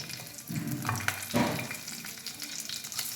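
Mustard seeds and cumin frying in hot oil for pepper rasam, a close crackling sizzle with bursts of spluttering, including a sharper flare near the middle, settling into steady frying.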